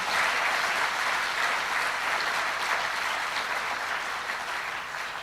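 An audience applauds continuously at a spiritual talk, a thick, even wash of many hands clapping that holds steady and slightly fades toward the end, with no speech over it.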